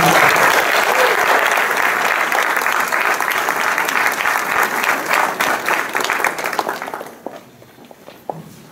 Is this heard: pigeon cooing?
no